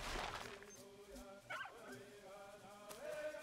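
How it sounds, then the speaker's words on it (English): Dogs in Assassin's Creed III give faint, distant whimpers and yips over quiet ambient game sound. "The dogs are a little annoyed right now."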